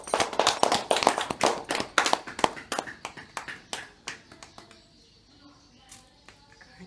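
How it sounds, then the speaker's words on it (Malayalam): Scattered hand clapping from an audience at an Onam celebration inauguration, dense and lively at first, then thinning to sparse claps and fading out near the end. "കൈയടിച്ചു"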